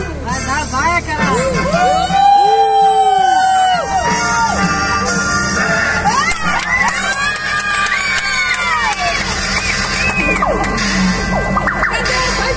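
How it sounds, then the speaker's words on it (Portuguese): Crowd at a theme park show shouts and jeers at the bandits, a loud, sustained mass of raised voices with children's yells and rising and falling calls over a steady background. "Vamos dar uma grande vaia nesses bandidos, pessoal!"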